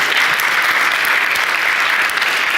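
Loud, even applause from a conference audience thanking a presenter at the end of a talk, sustained clapping filling the whole stretch without speech.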